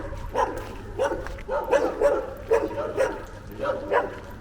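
A pack of dogs barks repeatedly on a street in Reșița, Romania, in rapid overlapping yaps and woofs that come in quick bursts over low background rumble.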